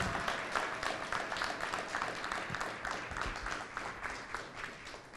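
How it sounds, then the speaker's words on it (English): Audience at an elementary school red carpet celebration gives sustained applause, a dense even patter of many hands that stays level from start to finish, somewhat distant and soft. "All right, a big round of applause."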